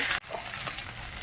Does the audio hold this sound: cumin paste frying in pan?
yes